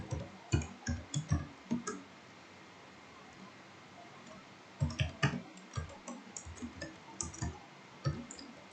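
Commands typed on a computer keyboard while setting up a VPS on Debian 7 Linux: bursts of quick, close key clicks in irregular runs, with a pause partway through and no talking.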